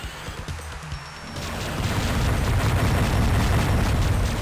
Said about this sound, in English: And a mega missile.